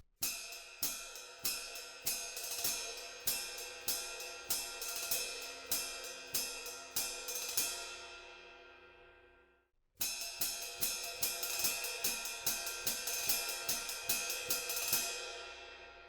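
A steady drum kit groove, with a washy, sustained ride cymbal ringing over regular kick and snare hits, in two passages split by a brief pause.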